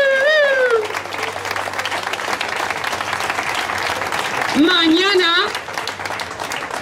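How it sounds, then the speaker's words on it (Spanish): Applause from a crowd at a street protest gathering, a steady bed of clapping under someone speaking, with a voice rising over it twice. "¡Aplausos!"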